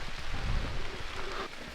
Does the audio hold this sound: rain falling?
yes